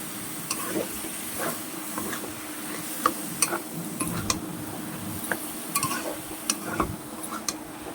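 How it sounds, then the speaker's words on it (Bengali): Banana flower (mocha) being stirred in a wok for a prawn curry, giving soft scraping and scattered sharp clinks of a spoon against the pan over a steady faint hiss of frying, close up with no talk. "এবার মোচাটাকে ভালো করে নাড়তে হবে, এই যে সুন্দরভাবে নাড়াচাড়া দিয়ে।"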